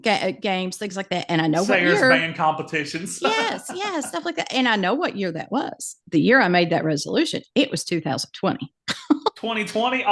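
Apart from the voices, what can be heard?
No everyday noise stands out behind the speech.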